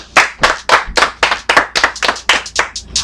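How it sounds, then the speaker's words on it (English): A small audience claps for Coach Hillsman, about a dozen distinct, close hand claps in a quick, slightly uneven rhythm that never blends into a full roar. "Let's get a round of applause for the great Coach Hillsman"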